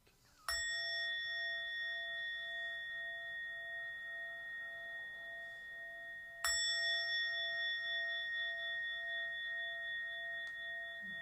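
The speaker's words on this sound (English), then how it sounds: "with each ring of the bell" A small bell rings twice, about six seconds apart, each strike bright and clear with a long, sustained ringing tail in a quiet room.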